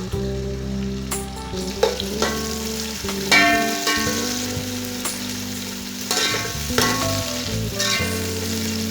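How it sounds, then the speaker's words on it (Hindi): Three onions fry in a cup of oil for beef pulao, a loud continuous sizzle up close, with a spoon scraping and stirring through the pan and no talking. "प्याज को ब्राउन कर लेंगे।"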